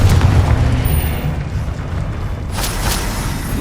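A Confringo blasting spell in Hogwarts Legacy bursts with a loud low boom, followed by a rumbling, crackling tail and a second sharp flare of noise near the end.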